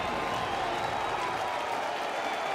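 A baseball stadium crowd stands and cheers during a bases-loaded, full-count, two-out ninth-inning pitch in a Yankees–Athletics game, a steady, dense roar of voices and applause spread evenly across the moment.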